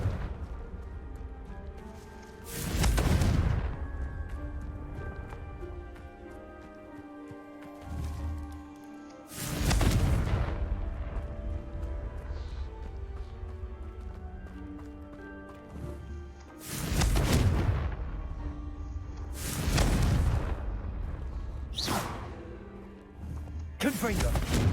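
Confringo spell blasts in the Hogwarts Legacy video game, four loud bursting explosions spaced several seconds apart over a low rumbling game soundscape.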